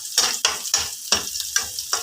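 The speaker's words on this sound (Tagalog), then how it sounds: "Gisa-gisa lang tayo guys." Simple lunch dish being sautéed in a pan, with bursts of sizzling and stirring in a steady rhythm, roughly every half second, loud and close with no talking.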